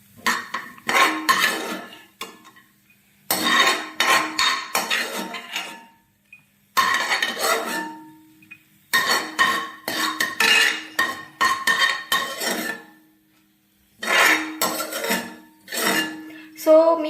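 Roasted cashews scooped out of a pan into a bowl, making bursts of metallic clanks and clinks as the spoon scrapes and taps against the pan and bowl, with short silent gaps between bursts.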